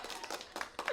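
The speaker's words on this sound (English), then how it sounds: "I've been waiting to use this applause, so I'm using this applause again" An applause sound effect plays from an app, a short, faint run of a few quick claps that sounds thin and distant, as if coming through a small speaker.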